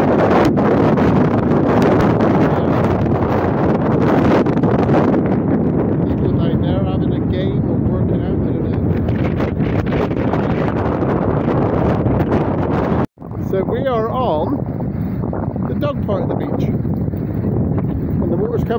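Strong wind buffets the microphone throughout at Woolacombe Beach, a constant roaring rumble, with a person speaking over it and a brief dropout near the end.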